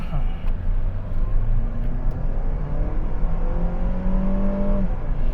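A 2021 Mitsubishi Xpander 1.5 GT engine revs up and pulls steadily under acceleration, heard from inside the cabin, with a gear change and continuous road rumble.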